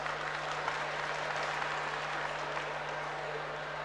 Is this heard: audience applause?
yes